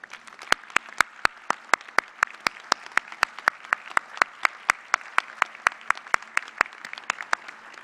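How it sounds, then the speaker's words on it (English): A commencement audience at the fall 2014 K-State engineering ceremony applauds: a thin, regular series of sharp, close claps at an even rhythm over a faint background of scattered clapping. "Graduates, please stand and join me in giving your loved ones in the audience a big and well-deserved round"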